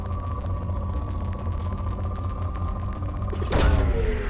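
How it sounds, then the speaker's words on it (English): A probe launching from the Normandy in Mass Effect 2 Legendary Edition: a steady ship hum runs throughout, then a sudden loud whooshing burst of release near the end fades into a lingering rumble. "Launching probe."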